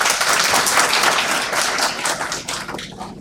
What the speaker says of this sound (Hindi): तो अपने लिए एक बार जरूर तालियां बजाइए।